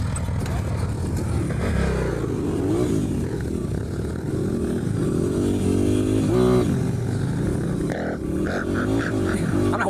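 A dirt bike engine revs and strains close by in a field during off-road wheelie attempts, its pitch rising and falling unevenly, while people talk over it.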